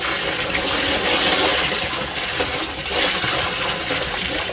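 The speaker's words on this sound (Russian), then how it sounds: "Наполняю сейчас емкость." Water pours steadily into a chamber of a homemade septic tank as its airlift system runs, a continuous close rushing and gushing with no talk.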